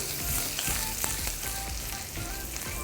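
Cloves, cinnamon, chopped green chili and finely cut ginger fry in hot oil and butter, a close, continuous, crackling sizzle with small pops throughout.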